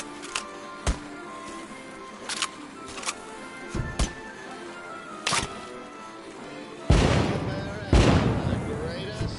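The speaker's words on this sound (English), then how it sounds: "Light up those fireworks," Fireworks burst in the PSVR game Max American Dream: a series of sharp cracks and pops at irregular intervals, then two heavier, louder booms near the end.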